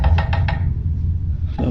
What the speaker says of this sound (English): Joel hears knocking coming from inside the bathroom